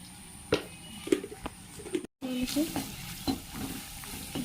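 Ground spices and turmeric frying in a pan, a close, bright sizzle broken by several sharp scraping stirs, with a short dropout midway and no talk.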